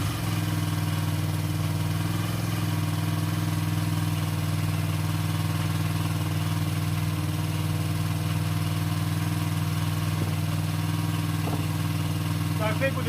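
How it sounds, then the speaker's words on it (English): A Honda XR80 with a rebuilt engine and a China PZ20 carburetor idles steadily after a kick start, with a constant low, even putter and no pauses. "Took the choke completely off, kicked it, and here we are. It's a brand new rebuilt engine"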